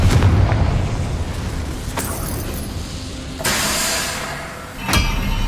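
Confringo blasting spell explosions in the Hogwarts Legacy video game, several loud booming bursts over a rumbling game soundscape, each sudden blast followed by a fading roar.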